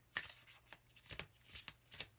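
A Psychic Tarot Oracle card deck shuffled by hand, close and quiet, with a string of soft papery slaps and riffles in an uneven rhythm.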